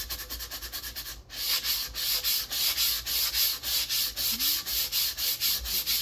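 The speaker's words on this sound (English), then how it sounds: "I'm just kind of letting the sandpaper do its own work." Sandpaper is rubbed by hand over a part during an Aerotech Sumo kit build, making a steady, rhythmic scratching of back-and-forth strokes close up. The strokes break off once briefly and then continue evenly, with no talking.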